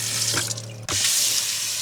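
Water gushing from a tap into a sink, a steady close hiss with a brief interruption partway through before the flow resumes strongly.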